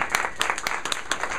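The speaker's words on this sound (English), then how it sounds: "let's give Stanaker and staff a round of applause for hosting us here today" Library staff receive applause at a neighborhood library reopening celebration, with a scattering of sharp claps repeating unevenly over a steady background rather than a dense roar.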